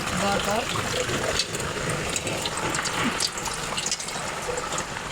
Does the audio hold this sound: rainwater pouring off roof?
yes